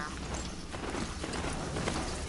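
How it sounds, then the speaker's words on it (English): A mount in the Horizon Zero Dawn video game is ridden, its hooves clip-clopping steadily at a walking pace under dense, continuous game noise. "I need to get off my horse."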